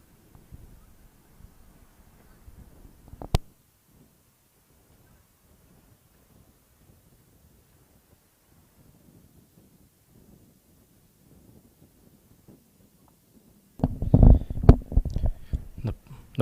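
Low, blustery rumbles of wind buffeting a microphone at the Musa Cricket Stadium during a cricket match, faint and scattered at first, then a strong loud gust burst near the end.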